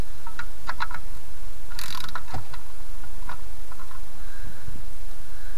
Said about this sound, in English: I'm just choking up on the socket on the ratchet right near the head so I don't over tighten this